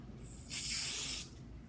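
A single short burst of aerosol spray laying a very thin coat, hissing for under a second, close by, with quiet before and after.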